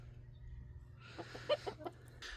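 A jealous backyard rooster gives a few soft, short clucks at middling distance over a faint steady background hum, the clucks spaced irregularly and ending with a brief rustle.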